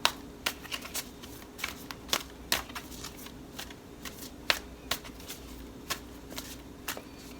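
Tarot cards being shuffled up close, a series of sharp riffling snaps and soft slides repeating in an irregular rhythm over a quiet background.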